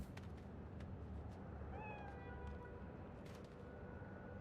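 A cat meows in the Cyberpunk 2077 Phantom Liberty video game, with a short, rising mewing call cutting through midway over a steady, noisy game-ambience background with scattered clicks.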